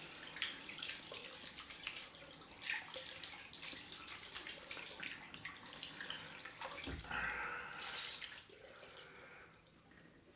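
Tap water runs steadily to wet a head before shaving, a continuous close splashing stream with a heavier pour midway that eases off toward the end.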